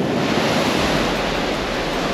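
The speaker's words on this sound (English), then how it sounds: "Wow, and look at the wave." Ocean waves crash against sharp red rocks on the Santorini shore, a loud, constant roar of surf mixed with wind buffeting the microphone, with no voices.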